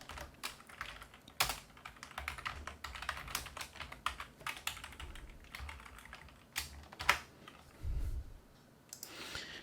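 Rapid keystrokes on a computer keyboard while a document is written in a word processor, forming a close, quiet, steady stream of clicks with occasional heavier key presses.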